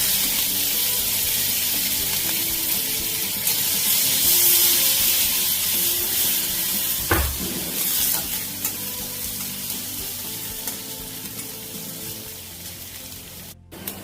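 Crushed garlic, dried chilli and black cumin frying in oil for a pat shak masoor dal, a continuous close sizzle with occasional stirring scrapes and spits that gradually softens.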